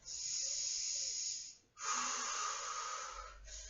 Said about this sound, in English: Take a breath.